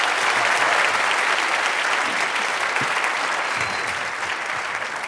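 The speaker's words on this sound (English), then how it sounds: "So please, one more round of applause from John Haidt" Audience at a paid evening talk featuring Jonathan Haidt applauding loudly, a dense, sustained roar of many hands that stays full for the whole stretch and eases slightly toward the end.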